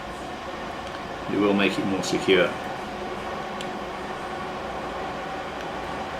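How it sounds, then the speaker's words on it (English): A steady broadband rumble of a passing train continues throughout, while someone speaks briefly over it. "I apologise for the train noise, but I live right next door to a railway line."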